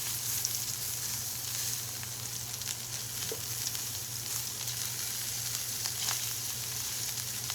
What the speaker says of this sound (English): we can brown the meat. Brown the meatballs, I should say.